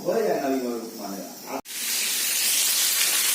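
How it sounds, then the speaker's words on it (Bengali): Fish frying in a pan gives a sudden loud, steady hiss, like oil spitting, that starts partway through and keeps going to the end. A voice talks before it begins, in a home kitchen. "মাছ ভাজাটা বসিয়ে দিয়েছি"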